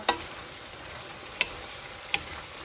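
Chop suey vegetables are stirred in a pan over a faint steady sizzle, with three sharp utensil clicks against the pan spaced about a second apart, close and fairly quiet.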